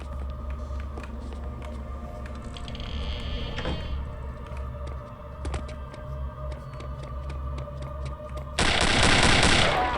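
Gunfire in the shooter game Return to Castle Wolfenstein: repeated sharp shots crackle over a steady low game hum, with a louder, denser burst of firing near the end.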